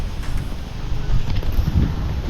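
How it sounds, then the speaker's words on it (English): Strong, gusty wind buffets the microphone of a cyclist riding the Empire State Trail near Stillwater, New York, a continuous low rumble that swells and surges in louder gusts throughout. "y'all can tell how windy. And gusts are crazy."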